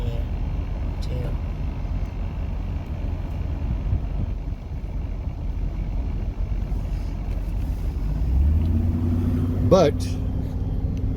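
A car on an evening drive back near Condon, Oregon gives a steady road and wind rumble inside the cabin, rising slightly near the end, with a brief spoken word over it.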